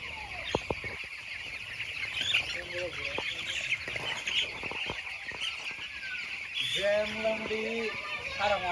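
A crowd of small chicks peep and chirp continuously nearby, with a few clucking or voice-like sounds near the end.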